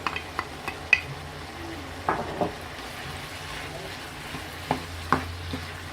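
Sweet bell pepper fries in a pan as part of a chicken filling for a puff pastry braid, a steady close sizzle broken by a few sharp utensil scrapes and clinks as it is stirred.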